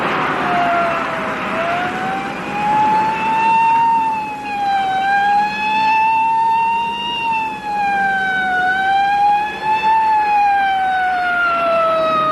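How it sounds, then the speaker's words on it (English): Police car siren wailing loudly and close, rising and falling in slow repeated sweeps for the full length, with a faint vehicle rumble underneath and no talking. "There's a police car right in back of us"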